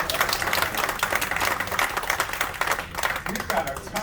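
An audience applauds at a magic show in a theatre, with dense, continuous clapping that carries on steadily throughout, loud and close, while a voice speaks over it.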